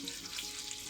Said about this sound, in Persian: مقداری زردچوبه داخلش میریزم و بعد هم سیرداغ رو بهش اضافه میکنم